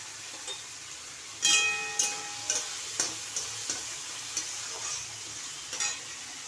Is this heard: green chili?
yes